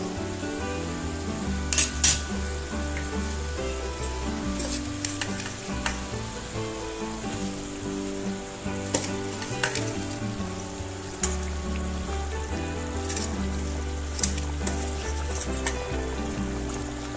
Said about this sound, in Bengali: দেখুন জলটা ফুটতে শুরু করে দিয়েছে, এবার আমি এর মধ্যে মাছ ভাজাগুলো দিয়ে দেব।